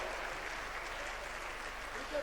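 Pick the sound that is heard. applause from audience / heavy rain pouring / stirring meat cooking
applause from audience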